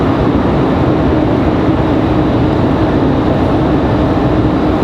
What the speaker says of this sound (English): that whale sound you're hearing, that is the Pratt & Whitneys on the A220s